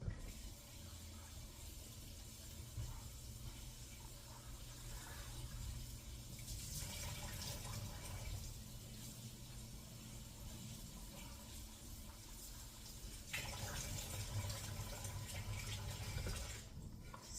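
Fish for fish tea being rinsed under steadily running water, a continuous splashing flow that swells louder near the end, with no talking.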